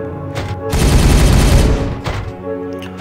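Gunfire in the Regicide video game, a loud, dense burst of shooting that lasts over a second, with game music or tones around it.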